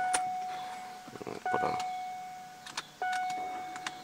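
A power side mirror on a Mercedes 500E W124 whirs in short motorized bursts, two clear runs of a thin electric hum separated by pauses, close and quiet with faint clicks between.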